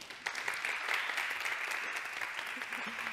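An audience at a conference on climate change in Spain applauds a speaker with steady, dense applause at moderate volume for the whole stretch, with a faint voice underneath near the end.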